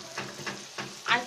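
Pieces of chicken steak sizzling in hot oil, near and moderate in level, with periodic scraping bursts as they are turned, one louder clatter at the end.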